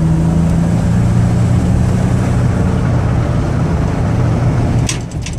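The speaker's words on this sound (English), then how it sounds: "let you hear the engine run," A 2001 Dodge Caravan wheelchair-accessible van on a highway test drive, its engine droning loud and steady from inside the cabin with a low constant hum and road roar, easing off slightly near the end, with a few brief rattles.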